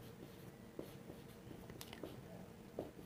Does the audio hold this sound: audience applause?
no